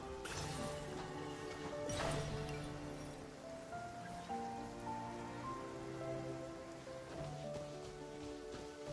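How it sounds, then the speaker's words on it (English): Rain falls in the Nod-Krai region of the video game Genshin Impact, a steady, soft patter running continuously beneath sustained in-game music. "the rain is something weird here"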